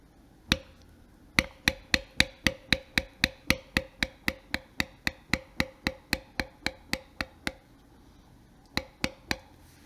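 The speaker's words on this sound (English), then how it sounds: "So I'm going to go ahead and bevel the front of this leaf here." Sharp, steady taps of a mallet striking a leather beveling tool while carving a floral belt, about two dozen evenly spaced close knocks with a short pause, then three more strikes.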